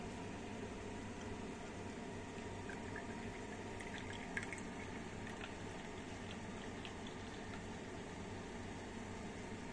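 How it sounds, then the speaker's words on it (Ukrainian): White wine vinegar poured into a simmering honey marinade for canning peppers, a steady bubbling and seething wash with faint liquid trickles throughout, close and even, no talk. "Тепер наливаємо винний білий оцет."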